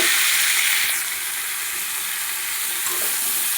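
Ginger paste frying with bitter gourd and mixed vegetables in a pan, a loud, dense, continuous hiss of hot oil heard up close with no talk.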